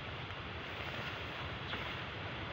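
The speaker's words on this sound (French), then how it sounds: "en ce moment le vent commence à se lever" Wind blowing steadily outdoors, a broad, even rush of moving air that holds at a constant level with no gusts standing out and no voices over it.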